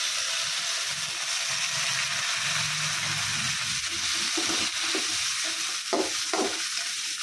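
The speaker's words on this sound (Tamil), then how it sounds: "இதெல்லாம் சேர்த்து நல்லா ஒரு வதங்கணும்." Curry leaves and tomato sauté in a pan for a Coimbatore-style horsegram thokku, producing a constant hissing sizzle with occasional stirring scrapes and spatters toward the end.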